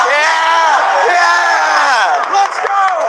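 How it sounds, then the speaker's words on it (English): An audience at a comedy or talk show erupts in loud, sustained cheering and whooping, a close, roaring wall of voices lasting a few seconds. "That's an unusual amount of applause for Revenge of the Sith."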